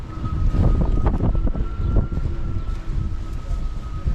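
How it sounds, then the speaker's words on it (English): An electric car drives past outdoors on a windy day in Tenby, its steady electronic whine holding a high tone over rumbling wind buffeting the microphone. "you can hear somebody's got an electric car"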